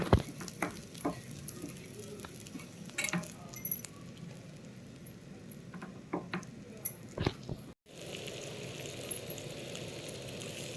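Brinjal slices frying in a pan on a stove, a steady hiss and sizzle with scattered clinks and scrapes of slices being turned, close, continuing evenly after a brief cut.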